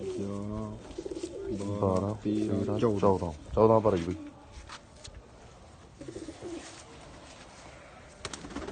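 Punu wali breed pigeons coo in low, repeated calls while someone talks over them. The cooing sounds close, runs under the speech, and fades in the second half.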